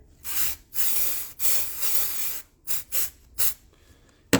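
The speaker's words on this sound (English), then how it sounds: "spray it on" Dry shampoo is sprayed from an aerosol can in several close hissing bursts, three long sprays followed by a few shorter puffs with pauses between them.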